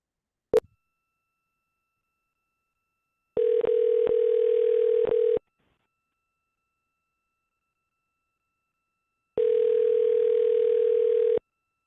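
Telephone dial tone heard while a call is being placed, a steady single-pitched tone in two separate blocks of a couple of seconds each, preceded by a short click, with silence between.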